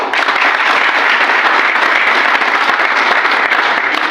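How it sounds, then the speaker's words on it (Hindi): A large crowd claps together in loud, continuous applause, a thick unbroken wash of hands that holds steady from start to finish. "ताली बजाना"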